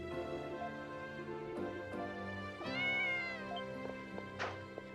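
Cat meowing in the video game Ys: Memories of Celceta, a few clear meows over looping game music, one longer drawn-out meow in the middle, fairly close and alone without talk.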